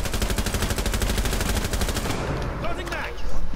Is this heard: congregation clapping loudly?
no